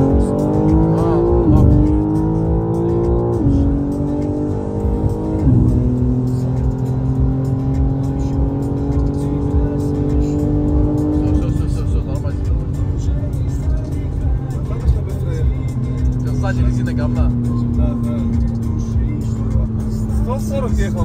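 BMW M4 G82 engine revving hard under full throttle, a loud sustained roar with rising and falling pitch as it accelerates through gears, close up from inside the car.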